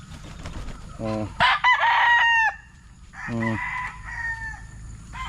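A Kelso over White gamefowl stag crows loudly and close twice, with clucking from nearby fowl in a farm setting.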